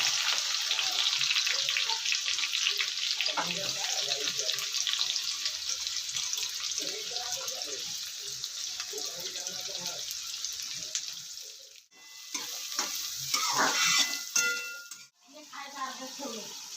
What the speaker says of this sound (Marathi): कांदा थोडासा सोनेरी कलर येईपर्यंत आपण तेलामध्ये परतून घेणार आहोत।